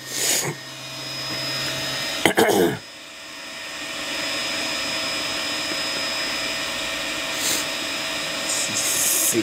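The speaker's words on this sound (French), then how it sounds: "Faut pas mettre ça, Timéo, quand ça fait un test de résonance. Faut la laisser tranquille, la machine" A Two Trees SK1 3D printer runs a resonance calibration test, giving a steady mechanical whine and hum with tonal lines, interrupted early by a couple of short louder rattling bursts and a brief cough-like sound.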